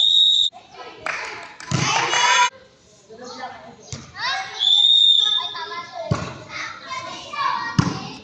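Sharp referee whistle blasts at a children's volleyball game, two or three short shrill tones amid ball thumps and kids shouting and talking nearby.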